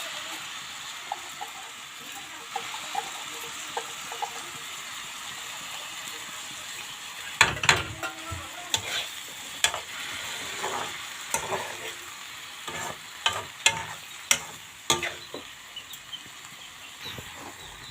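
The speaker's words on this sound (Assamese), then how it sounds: "এয়া চাউলে দালিয়ে অকণ ভাজি লৈছোঁ" Soaked rice and dal fried and stirred in a pan, a steady low sizzle with scattered scrapes and clacks of the spoon growing busier and louder partway through, close up with no talking.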